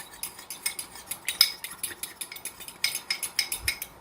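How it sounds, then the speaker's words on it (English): A spoon stirring an arrowroot powder slurry made with cold liquid, clinking rhythmically against the side of a bowl in quick repeated scrapes and taps, close and fairly loud with no talking. "just stir it until that arrowroot dissolves"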